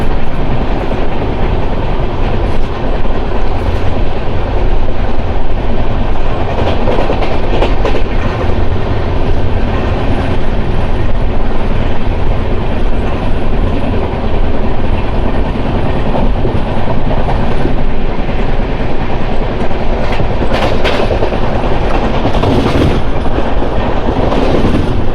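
Janmabhoomi Superfast Express 12806 running on rails between Lingampalli and Visakhapatnam, with a loud continuous rumble and clickety-clack of wheels over rail joints heard from aboard, steady throughout with occasional clanks.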